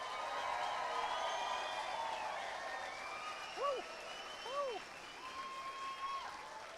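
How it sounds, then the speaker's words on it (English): Graduation-ceremony audience applauding the 2024 graduates, a fairly soft, distant wash of clapping with sustained tonal sounds, a couple of rising-falling whoops or whistles, and some voices. "Let's give one big round of applause."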